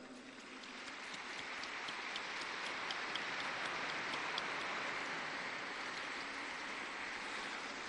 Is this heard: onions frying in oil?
no